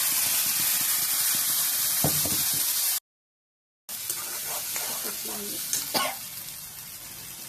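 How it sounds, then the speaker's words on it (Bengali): Ginger, garlic and tomato paste hits hot oil and ghee for egg korma, setting off a loud, close, hissing sizzle that cuts out briefly to silence, then resumes with a few soft scraping clicks. "এর মধ্যে দিচ্ছি আদা রসুন টমেটো বাটা"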